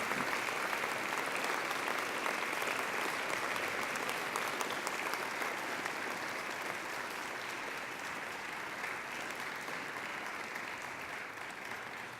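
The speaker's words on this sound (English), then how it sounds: "And now I invite you to give them a mighty round of applause." Graduates at a graduation ceremony applaud their family and friends in a sustained, steady round of crowd clapping that holds evenly for over twelve seconds, heard from some distance in a large hall.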